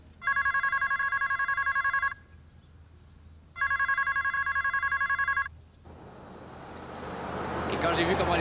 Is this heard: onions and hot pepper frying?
no